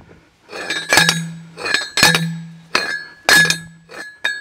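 Loud metallic clanks ring out as a hand post pounder drives a steel T-post, six or so heavy hits with a sharp ringing tone, close by.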